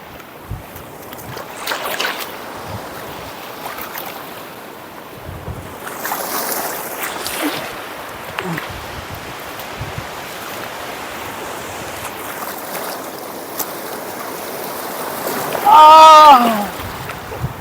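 Sea waves splashing against a father and son bathing at a beach, with surging water and gusts of wind buffeting the microphone, voices talking throughout and a loud shout near the end.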